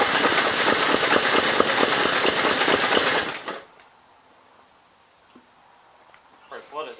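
A 1951 Gravely Model L walk-behind tractor engine cranks and runs roughly and loudly for about three seconds, then cuts out into near silence broken by faint handling noises.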